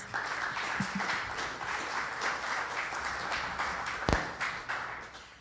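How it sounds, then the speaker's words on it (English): Applause from a church congregation, steady clapping throughout at moderate distance, fairly quiet overall, with a single sharp thump partway through. "Let's give them a round of applause."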